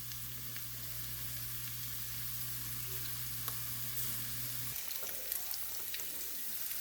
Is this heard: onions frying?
yes